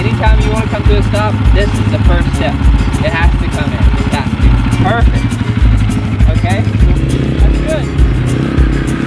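A small three-gear dirt bike held in second gear during a beginner riding lesson at a motocross school. Its engine throbs in a steady rhythmic pulse, partly masked by close instructor talk running over it.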